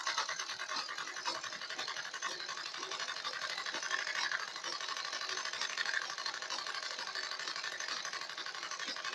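A sewing machine stitches a sleeve onto a garment, giving off a fast, even mechanical rattle that runs steadily from start to finish at moderate loudness.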